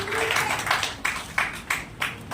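An audience applauds at a literary award and book launch ceremony, a steady wash of clapping with a few louder swells, heard alone without talk.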